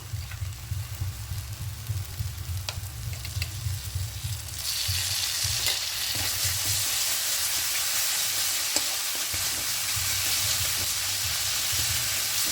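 Spice paste of cumin, turmeric and chilli powder with a little water sizzling and frying in a pan for potato biryani, a steady close hiss that grows louder and brighter midway, with occasional stirring scrapes and no talk.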